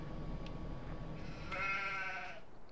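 Sheep in a farming video game bleat faintly over a steady low background hum, with a couple of brief wavering cries toward the middle.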